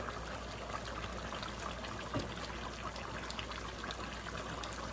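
Water pours steadily into a pot of cooking meat and bottle gourd, a continuous trickling splash heard close up with no talking.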